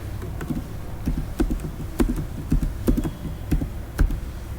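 Computer keyboard keys are tapped in an irregular, fairly quick rhythm while a web address for a blog is typed, close and moderately loud, with no talking.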